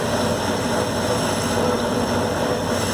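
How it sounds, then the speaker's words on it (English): A lathe takes a skim pass on the shoulder of a custom frizzen pivot screw, a dense, steady machine drone and whir with no breaks or talking. "now a skim pass for the actual shoulder where the Frizzen rides"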